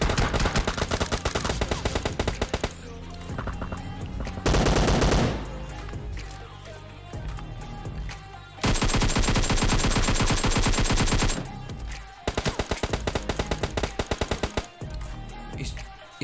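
PUBG Mobile gunfight with loud close-range automatic gunfire in repeated rapid bursts, short pauses between volleys and dense crackling shots, no speech heard.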